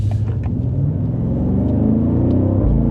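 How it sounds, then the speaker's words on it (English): A 2025 BMW M8 Competition Gran Coupe under mild acceleration, a loud, deep, steady engine rumble heard from inside the car, with no talking. "Just a mild acceleration."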